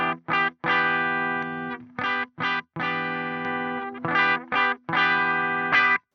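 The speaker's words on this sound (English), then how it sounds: "I use the plumes for some of my core tone, just add a little bit of flavour and saturation to the clean tone" An electric guitar plays through a Plumes overdrive pedal for a lightly saturated clean tone, sounding as bright, choppy chords and phrases broken by short silences, close and alone.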